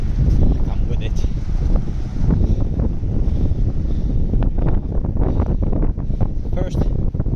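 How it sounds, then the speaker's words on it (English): Strong onshore wind buffets the microphone along the shore of the Finnish archipelago, a continuous rough rumble with gusty swells, while a person speaks over it. "the wind is blowing to the shore"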